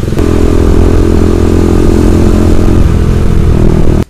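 Motorcycle engines roar loud and close on a road to Tagaytay, a dense steady rumble with wind buffeting, ending abruptly.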